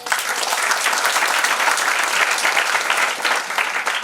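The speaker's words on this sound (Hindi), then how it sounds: "ताली बजाओ इसके लिए।" A seated crowd at a sales meeting breaks into loud, continuous applause for an AYUSH-certified health care product, the clapping thick and unbroken from start to finish with no speech over it.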